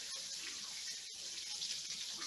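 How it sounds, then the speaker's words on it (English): Tap water runs steadily over a metal cocktail strainer in a sink, a continuous close hiss and splash that briefly dips once, with no voices. "let me rinse out my strainer here"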